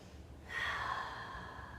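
Deep exhale during a yoga standing forward fold with knees bent, a single soft airy breath swelling after a quiet moment and slowly trailing off, close and fairly faint.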